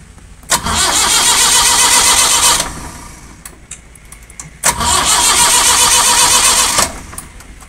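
A gasoline generator engine is started twice, each pull catching into a loud, steady mid-pitched running roar for about two seconds before cutting out, with quiet gaps between.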